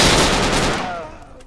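A loud, close burst of rapid automatic gunfire in the military shooter Project Reality, fading out within about a second.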